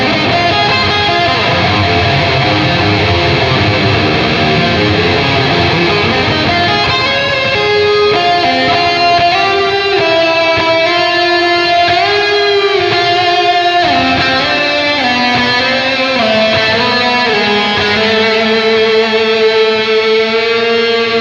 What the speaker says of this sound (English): the shimmer reverb sounds really excellent as well